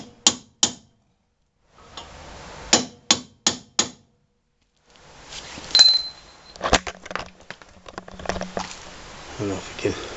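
Hammer striking a transfer punch to center punch a hole in metal for a Dodge Ram front mount hitch build, a series of sharp close metallic taps in small groups, with a voice talking between and over later strikes.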